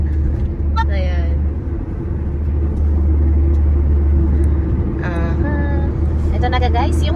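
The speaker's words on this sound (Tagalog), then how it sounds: "Ito na guys yung highway." Heavy traffic on an Indian highway gives a continuous low rumble of passing cars and buses. Brief voices cut in over it now and then.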